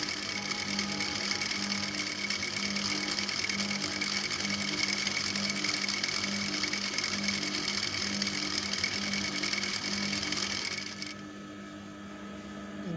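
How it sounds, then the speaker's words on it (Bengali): A sewing machine runs continuously while stitching a child's palazzo skirt, giving a fast, even mechanical whir with a regular rattling pulse that stops abruptly near the end. "এবারে আমি সেলাইটা দিয়ে নিচ্ছি।"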